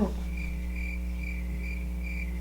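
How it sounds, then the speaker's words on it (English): Crickets chirp in regular, evenly spaced bursts over a low steady hum, faint and alone. "Crickets."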